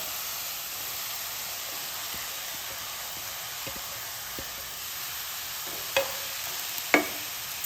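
Chopped onions added to hot oil for a chicken roll filling fry with a steady, even hiss throughout, broken near the end by a couple of sharp scrapes or taps against the pan.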